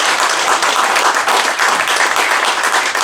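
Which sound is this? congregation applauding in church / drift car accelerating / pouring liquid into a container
congregation applauding in church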